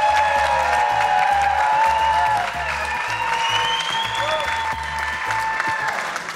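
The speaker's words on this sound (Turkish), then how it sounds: "Oğul Bey yakışıklı diyenler alkışlasın" Studio audience applauding on a Turkish television show, loud continuous clapping and cheers with rhythmic music underneath and a sustained tone above, holding steady for over six seconds.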